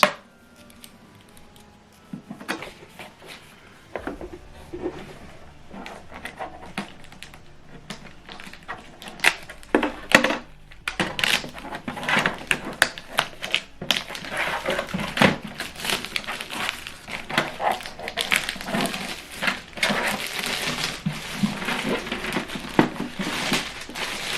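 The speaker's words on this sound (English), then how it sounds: "Now let's remove all the packagings." Unpacking an HP Deskjet 2820e all-in-one printer: loud crinkling plastic, crumpling paper and scraping cardboard in irregular bursts, close up and growing busier toward the end, with no talk.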